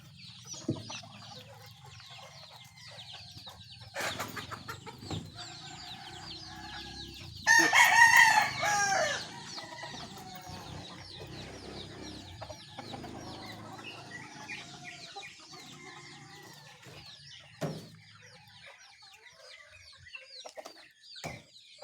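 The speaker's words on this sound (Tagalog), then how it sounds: "Wala na tayong pagkain sa ating mga alagang manok" Hens cluck softly and steadily in the background while a rooster crows loudly once in the middle, with scattered other bird calls around.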